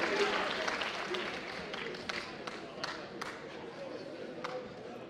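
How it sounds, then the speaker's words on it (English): Audience applause at a high school decision day awards ceremony in a gym, steady moderate clapping from a crowd with some louder individual claps standing out, tapering slightly over several seconds. "Everyone, please give them a round of applause"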